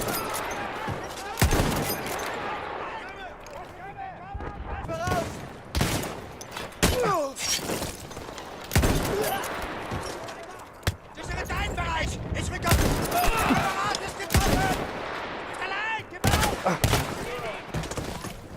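Bursts of rapid gunfire in a soldier video game, with repeated loud volleys and shots over a busy game soundscape, mixed with game noise and occasional voices.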